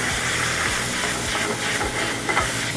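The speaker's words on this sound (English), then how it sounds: "I'm gonna put the white wine into the pan. Let that reduce a little bit in there." White wine hisses and sizzles as it reduces in a hot pan for a fish dish, a steady close steamy hiss with faint crackles and no talking.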